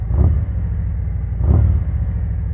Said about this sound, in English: Let's give it a quick rev.